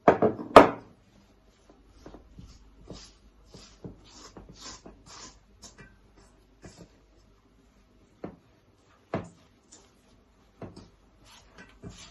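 Dough for minced-meat pide is worked by hand on a floured surface, giving soft, scattered thumps and rubbing pats, one louder knock near the start, then quiet, irregular presses with long gaps.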